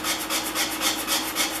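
Sanding block with 150 grit paper scrubbed back and forth over the rusty curved iron cap, a rhythmic raspy rubbing of about six strokes, close and fairly quiet.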